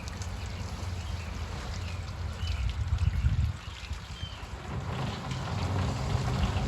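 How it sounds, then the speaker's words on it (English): Heavy rain pouring off a roof and rushing down a gutter toward an IBC tote, a steady broadband wash of water with a slight surge midway, continuous and fairly close. "It's coming down the gutter, into the gutter pretty fast."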